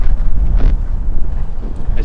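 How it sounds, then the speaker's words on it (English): Gusts of wind buffet a headset microphone outdoors on a windy day, a loud, low rumbling roar that surges and dips continuously with no clear speech. "As you can tell, it's a windy day today."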